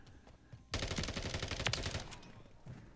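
In a video game, an FSS Hurricane submachine gun fires a rapid burst of automatic shots, loud and close, lasting over a second amid faint background game sounds.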